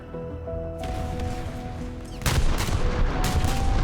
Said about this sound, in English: There we go. Launching all the cannons.